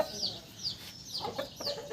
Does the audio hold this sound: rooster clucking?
yes